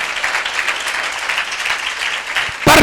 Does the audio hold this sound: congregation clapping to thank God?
yes